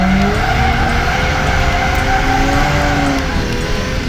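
A car drifting a figure eight makes one long, loud tire squeal that shifts in pitch as it turns, over the steady drone of a revving engine.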